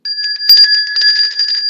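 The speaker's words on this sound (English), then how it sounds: "where's the bell?" A small bell rings out bright and loud on a live weather show, with rapid repeated strikes layered over a sustained, steady ring that continues throughout.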